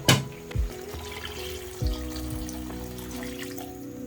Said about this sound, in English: I'll add in more water.